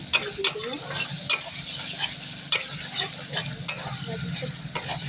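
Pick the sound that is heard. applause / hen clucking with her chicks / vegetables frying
vegetables frying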